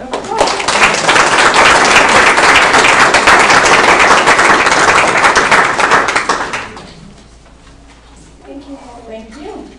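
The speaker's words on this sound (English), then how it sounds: "let's give her a round of applause" Audience applause at a talk on olive oil, loud dense clapping for about six seconds before it fades out and a voice begins speaking.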